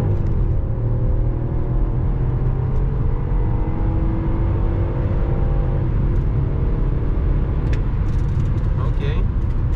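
A BMW X5 4.4i E53 with a 286 HP V8 running on petrol accelerates hard on a highway, giving a loud steady in-cabin rumble and a rising engine whir with no talking.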